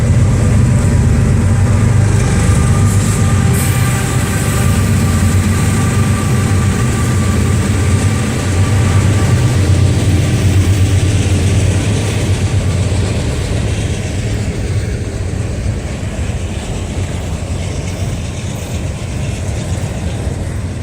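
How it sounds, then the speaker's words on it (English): A CSX auto rack freight train rolls past through Lagrange, Georgia, with loud, sustained rumbling and rhythmic clanking and squealing of wheels and couplers, continuous and close for the whole stretch, no talking. "Hear the train on the other side?"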